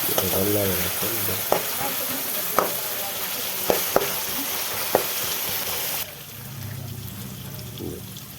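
Onions fry slowly in a pan for a Gujarati kantola curry, a steady broadband sizzle with a few sharp clicks of a spoon against the pan, then a quieter, softer sizzle toward the end.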